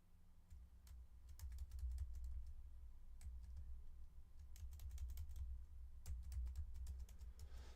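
Computer keyboard keys, arrow keys among them, tapped in scattered quick clicks while a CAD drawing is edited, close and fairly quiet over a low steady hum.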